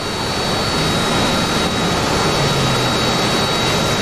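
A Harrier jet's big engine roars continuously in flight in a naval combat video game. The sound is a loud, steady jet whine and rush with a low drone underneath, and no one talks over it.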